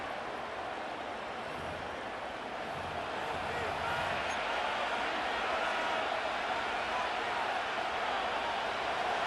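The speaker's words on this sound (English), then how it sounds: "This crowd into it now as we get to 3rd down." Crowd roar in the Madden NFL 25 video game as a football stadium builds toward third down, a dense steady wash of cheering that holds at full level throughout, with no talk.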